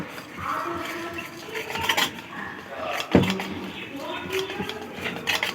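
Cake batter with baking powder and baking soda being beaten in a steel bowl: uneven scraping and clinking of a utensil against metal, with bursts of rubbing strokes and a sharp knock near the middle.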